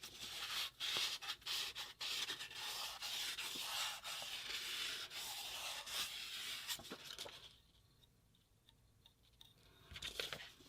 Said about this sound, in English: So this 2000 grit sandpaper,